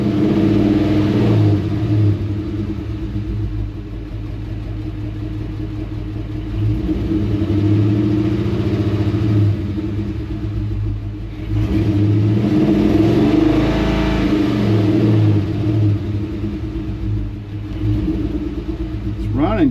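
A Ford F100 pickup engine runs with a deep, steady rumble, rising in several revving swells and settling back to idle, while someone talks over it.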